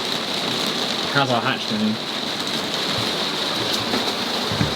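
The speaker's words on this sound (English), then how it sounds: "Listen to that! Wow. That is some rain." Heavy rain drums steadily on a 40ft sailing boat in strong wind, a loud, continuous dense hiss throughout, with a brief spoken question partway through.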